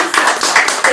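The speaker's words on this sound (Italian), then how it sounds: "io a questo punto allora farei un altro applauso alla nostra grandissima artista" An audience at a book event applauds an artist, a brief close burst of rapid clapping with quick repeated hits.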